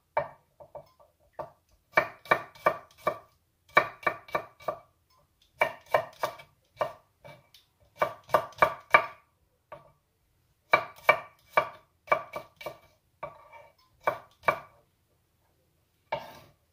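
Garlic being chopped for a spicy bulgogi mushroom stew, a knife rapping a cutting board in quick bursts of several strokes separated by short pauses, close and crisp with no talking.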